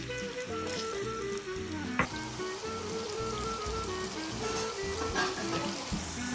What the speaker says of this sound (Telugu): ఆయిల్ పోసుకుంటున్నాను కడాయిలో. ఆలు కడాయిలో వేసుకొని ఫ్రై చేసుకోవాలండి.